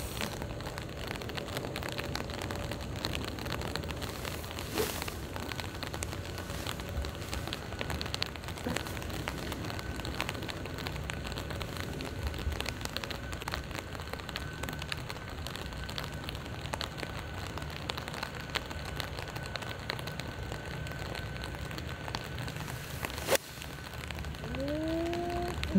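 Steady rain falls on an outdoor golf course at the sixteenth hole, a constant soft hiss of drops at moderate distance that runs unbroken throughout, with no voices heard.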